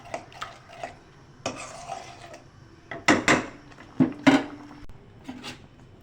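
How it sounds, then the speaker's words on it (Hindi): Spoon stirring cornflour into chicken corn soup in a metal pot, with irregular scraping clinks and bumps of varying loudness, close up, no speech. "कॉर्नफ्लोर ऐड करके आपने तेज़ तेज़ चलाना है।"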